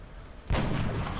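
A single heavy gunshot from the XCOM Long War video game hits suddenly and loudly, then trails into a rumbling, sustained boom with no voices over it.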